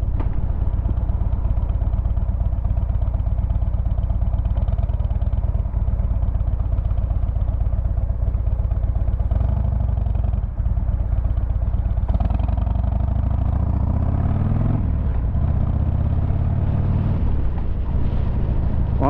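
A motorcycle rides continuously after a front suspension spring upgrade, a steady loud engine drone with shifting revs and some clatter, heard alone with no talking throughout.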